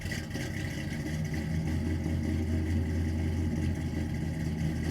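Engine of a 1949 Chevrolet 3100 pickup truck on a custom chassis, a steady, fairly loud low rumble as the truck idles and pulls away, with no voices over it.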